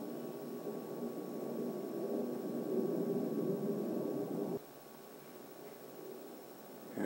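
Fast, noisy aircraft passing at the Chicago Air and Water Show, heard from a 42nd-floor vantage: a loud, broad roar that swells over several seconds, then drops abruptly to a quieter steady rumble.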